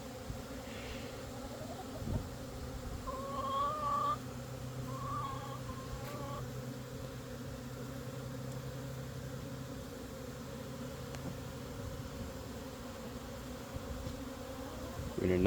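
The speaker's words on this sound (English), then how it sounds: "Pure chaos with bees everywhere." A dense, steady buzz of many honey bees flying close by, a continuous droning hum with no talking.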